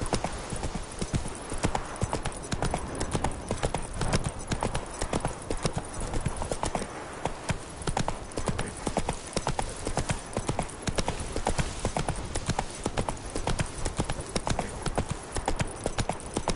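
Horse hooves clip-clop steadily at a brisk trot in The Witcher 3, with a rhythmic pattern running the whole way through, fairly close and loud, with the occasional snort or whinny under game ambience.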